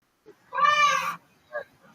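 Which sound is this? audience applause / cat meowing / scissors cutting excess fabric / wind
cat meowing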